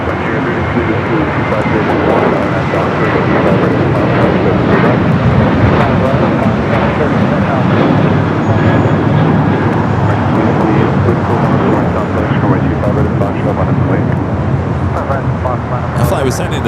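Airliner departing Los Angeles International Airport for Las Vegas, a loud, steady, broad engine roar close by, with traffic-like background noise and a brief voice near the end.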